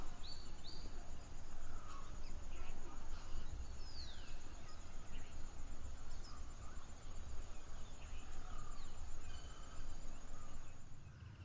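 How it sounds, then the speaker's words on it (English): Birds chirp and call intermittently over a quiet outdoor evening background in Ella, Sri Lanka, with a thin high insect-like tone running throughout. "All you can hear is bird song pretty much."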